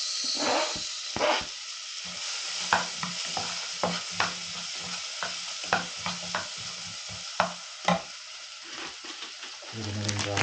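Onions frying in a pan, with a soft sizzle under repeated scraping stirs of a utensil at close range; a short speech-like sound is heard near the end.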